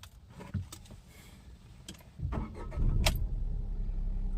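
A car being started: a few key clicks and jangles, then an engine cranking and catching into a steady idle, close and moderately loud.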